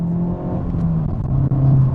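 A Honda Civic Type R engine revs hard while driving, a loud, steady, throaty drone that rises and dips with a brief lift around the gear change, close and continuous without speech.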